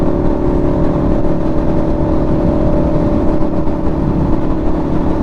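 A Suzuki SV650X sport-framed motorcycle engine hums steadily while the bike is ridden, a loud, even drone that holds for several seconds with no talking.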